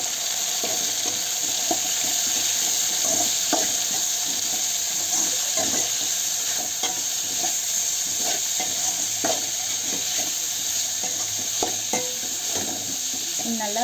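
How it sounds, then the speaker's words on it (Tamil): Tomatoes sautéing in a pan with beans and brinjal for a village-style curry, a steady sizzle broken by scattered scraping stirs and soft clicks throughout, with no talk. "இப்போ வந்து நான் தக்காளி இதோட சேர்த்து நல்லா வதக்கிக்க போகிறேன்."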